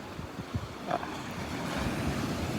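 West wind of about 15 with gusts to 20 blowing on a beach, a steady rushing buffet with lapping surf mixed in, no voices.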